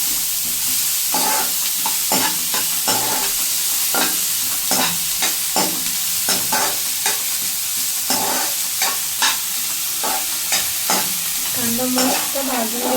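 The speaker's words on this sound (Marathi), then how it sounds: "कांदा भाजून घेऊया." Chopped onion frying in butter for pav bhaji, a loud close sizzle interrupted by repeated scraping stirs of a spatula against the pan.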